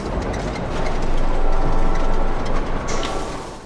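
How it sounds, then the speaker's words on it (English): A train speeding up and shaking, with dense low rumble and rattling that swells loudly in the middle and eases slightly toward the end, continuous throughout. "Suddenly, the train starts going faster, and everything shakes around David."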